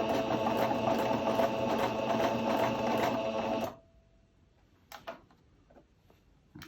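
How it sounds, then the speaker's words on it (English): A sewing machine stitches along the fabric edge of a skirt, running steadily with a rhythmic mechanical clatter for a few seconds. Then it stops abruptly, leaving quiet with a couple of faint handling taps. "I always try not to sew off the edge of the fabric."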